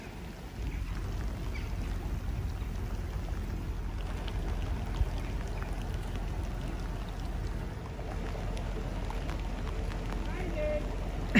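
Heavy rain drums steadily on and around a narrowboat on a canal, a continuous dense hiss with low rumble throughout, no clear talking over it.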